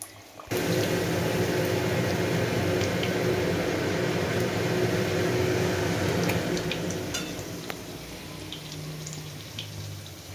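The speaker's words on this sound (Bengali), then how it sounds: "একটা করে লুচি ভেজে নিচ্ছি" Luchi flatbread deep-frying in a pan of oil, a loud continuous sizzling hiss up close that begins abruptly and eases slightly toward the end.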